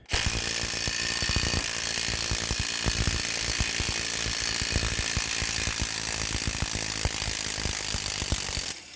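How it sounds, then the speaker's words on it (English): An adjustable wrench on the big nut of a 2014 Toyota Venza bearing tool is struck repeatedly, giving a dense, steady run of sharp metallic knocks close by over a constant high hiss. "Grab your adjustable, slide it onto the big nut, and begin hammering."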